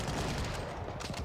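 An anti-tank unit fires during a Soviet Corps battle of the Vyazma Offensive in a WWII strategy game, with dense, crackling gunfire and explosions rolling on continuously and loudly.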